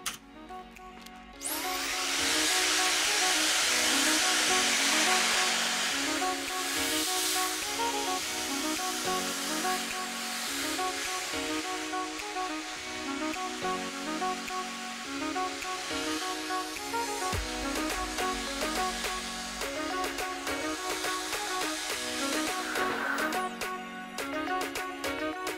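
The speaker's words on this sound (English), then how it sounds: "I've chosen my large boar bristle brush and the blow dryer." A blow dryer drying hair with a large boar bristle brush roars steadily and close for most of the stretch, its airflow wavering slightly as it moves, with faint music-like tones underneath.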